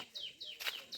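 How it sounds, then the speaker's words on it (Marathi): A few short, high bird chirps repeat in quick succession, faint and somewhat distant against a quiet background. "पक्ष्यांचा आवाज येतोय ना"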